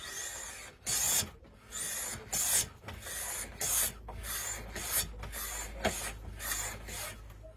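A No. 07 hand plane takes light, thin shavings across a wooden surface, working against the grain: a series of close, raspy strokes, each a second or so long, repeated steadily with brief pauses between.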